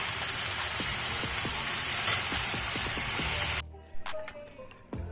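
Chicken fries in a pan with a steady, loud sizzle for about three and a half seconds. The sizzle then cuts off, leaving a few light clinks and a quiet stretch.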